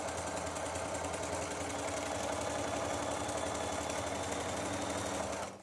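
A sewing machine stitches quilt pieces for a color spectrum quilt, its motor running in one continuous steady mechanical whir and rattle for several seconds before cutting off at the end, with no talking.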